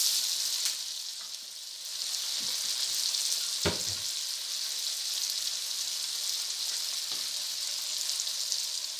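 A tomato fries in a pan with a continuous bright sizzle that stays steady and close. A single clink of a utensil interrupts it partway through.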